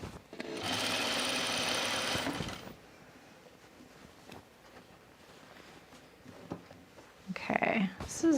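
Sewing machine stitching a seam on a denim dress, a close, steady motor whir running for about two seconds before stopping, followed by quieter handling sounds and a voice speaking near the end.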